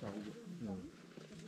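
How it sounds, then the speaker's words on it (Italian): Wolves at Polar Park wildlife park in Norway let out wavering, rising and falling howls, several voices overlapping briefly and heard fairly faint from a distance. "Senti i lupi."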